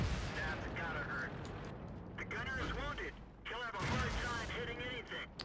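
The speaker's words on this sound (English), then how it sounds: "there's a VK shooting at me" Tank cannon shots from a VK in the game World of Tanks boom out in broadband bursts, with someone talking over the battle throughout.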